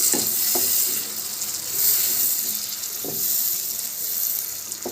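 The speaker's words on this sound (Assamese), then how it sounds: "তাতে মই দি দিছোঁ কাটি থোৱা এটা ডাঙৰ বিলাহী। এইখিনি মই মিলাই দিম।" Chopped tomato is stirred into hot oil with fried ginger and garlic in a pan, giving a steady close sizzle with a few scraping stirs of the spoon and no talk.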